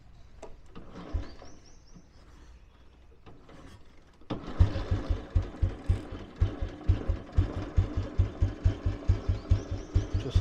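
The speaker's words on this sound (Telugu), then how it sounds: "చూస్తున్నారా బైక్ ఎలా స్టార్ట్ అయిందో." A vintage 1999 Royal Enfield Bullet, decompressor in use, is quiet with small clicks and knocks, then fires up and settles into a loud, close, evenly thumping single-cylinder idle.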